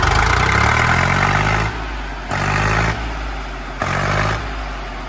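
A tractor's diesel engine cranking and catching, heavy low rumble that surges loud, drops, and revs up again in repeated bursts, close and alone without talk.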